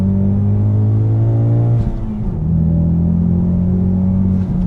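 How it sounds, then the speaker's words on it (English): Steady engine drone from a COBB Stage 3 tuned Ford Mustang EcoBoost with rising harmonic tones and turbo noise from the intake as it accelerates, a brief dip during a shift, then a strong continuous pull; no talking. "But I'm hearing very real turbo noises."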